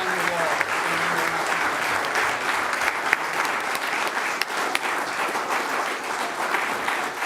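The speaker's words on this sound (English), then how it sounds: "Can I get a round of applause?" Sustained applause from an audience at a city council meeting, steady dense clapping filling the room throughout with a faint murmur of voices underneath.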